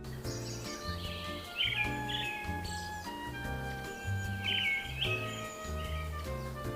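Small birds chirp and tweet at a treehouse, bright calls recurring throughout over a steady layered musical background, moderately close.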